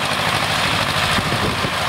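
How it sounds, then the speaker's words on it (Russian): A tractor mowing a field runs at a steady, close diesel drone with a low rumble and even vibration throughout, with no talk over it. "буквально через 5 минут уже заехал трактор"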